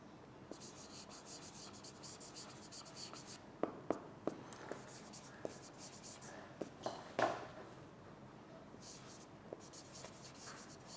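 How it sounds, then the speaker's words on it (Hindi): Chalk or marker strokes on a board during a classroom English lecture, faint scratchy taps and scrapes scattered over a quiet room, with a few sharper knocks, no talk. "लिख भी देता हूँ"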